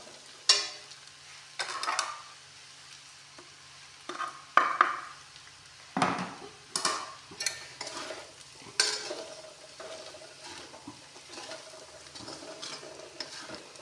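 Arbi (taro) curry with dry spices being stirred in a pan, with repeated scraping strokes of a spoon over a soft, steady sizzle, close and moderately loud, with no talking.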